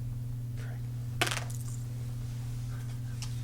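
Dice clatter briefly onto a tabletop during a tabletop role-playing game, one short rattling burst over a steady low hum, with no voices.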